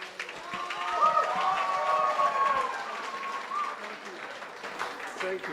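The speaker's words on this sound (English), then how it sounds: "big round of applause for Dae Joon." Wedding reception applause for the father of the bride: a sustained wash of clapping from the crowd, with voices and a faint tonal hum underneath, easing slightly toward the end.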